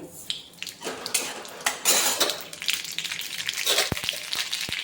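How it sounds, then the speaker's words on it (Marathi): Mustard seeds tipped into hot oil in a pan for pohe, with metal clinks and scraping of a utensil against the pan, a brief crackling burst, then sharp taps near the end, close by and without speech. "तेलामध्ये मोहरी मोहरी घालून घेऊया"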